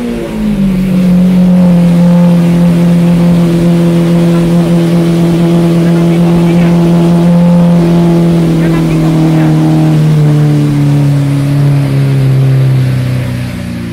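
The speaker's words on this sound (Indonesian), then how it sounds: "Sekarang kita coba hidupin kayak apa mobil ini." A Lamborghini Aventador LP720-4 V12 engine starts and revs loudly, holding a deep, steady roar that rises and falls in pitch for the whole stretch, very close and dominant.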